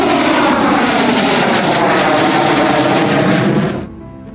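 A Sukhoi fighter jet roars loudly overhead during a forced-landing interception at an air base, a powerful continuous engine rumble that fades abruptly near the end.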